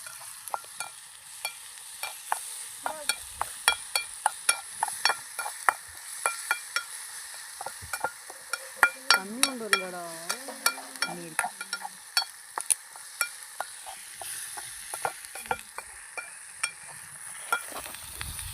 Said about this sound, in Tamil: தக்காளி வெங்காயம் போட்டாச்சு. பச்சை வாடை போற வரைக்கும் நல்லா வதக்குங்க.